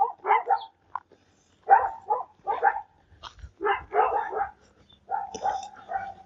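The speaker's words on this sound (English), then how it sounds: "that's seat maintenance with the dogs barking" Dogs bark in short, sharp bursts and yips, fairly close and loud, coming in irregular clusters with brief quiet gaps between them.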